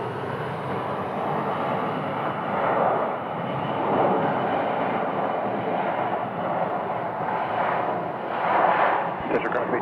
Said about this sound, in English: We have another business aircraft right there,